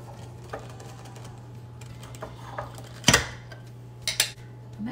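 A second jar of salsa is opened in a kitchen, with a few soft clinks and then a sharp glassy clack as the lid comes free, all over a steady low hum.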